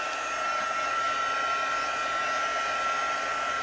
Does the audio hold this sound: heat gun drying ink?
yes